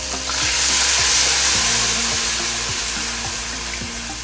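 Red chili powder sizzles in hot oil as lassi is added for kadhi, a loud, close frying crackle with steady stirring scrapes of a spoon against the pot throughout.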